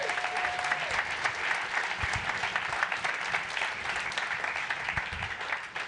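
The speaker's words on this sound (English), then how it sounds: "a round of applause for that" An audience at an awards ceremony claps in a dense, sustained round of applause that stays loud and steady throughout, with a faint voice briefly audible beneath it.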